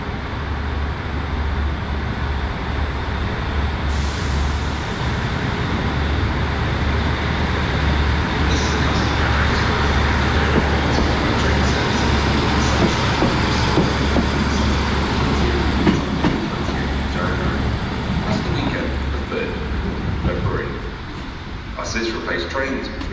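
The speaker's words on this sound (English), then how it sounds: "the 1601 Great Western Railway service from Oakhampton to Exeter Central" A Great Western Railway diesel unit 150248 pulls away from Exeter St Davids on the 1601 Okehampton to Exeter Central service, a loud, continuous low engine drone and rolling rail rumble close by.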